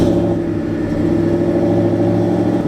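A Ford Mustang Boss 302 V8 fitted with new Lu47lb E85 injectors idles steadily after starting, a loud, even, close-up rumble with a constant low burble and no talking.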